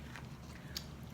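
A single crunchy bite into an Island Breeze flavored pickle, one brief crisp snap close up over a low steady background hum.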